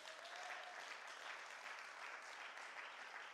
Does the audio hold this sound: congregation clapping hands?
yes